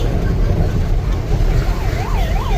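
An ambulance siren wails through a traffic jam, its wavering tone rising out of the heavy rumble of vehicle engines and growing clearer toward the end.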